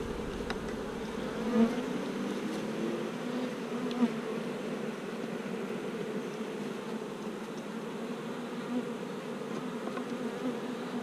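Honeybees buzzing around an open hive being worked, a dense steady drone of many insects close by, with a few louder individual bees passing near.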